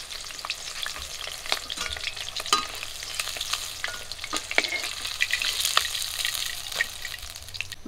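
The rest of the folli fish frying in hot oil in a pan, an uneven sizzle broken by frequent spitting pops and spatters, with some stirring or turning sounds, heard up close without speech.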